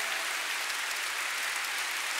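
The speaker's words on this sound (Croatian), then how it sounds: "jedan veliki aplauz" Concert audience applauding, a dense steady wash of clapping from many hands that holds evenly throughout, without voices.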